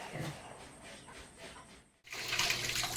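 Water escaping from a burst PVC pipe of an aquaponics setup, a soft hissing trickle that cuts off briefly and then returns as a louder, steady rushing spray.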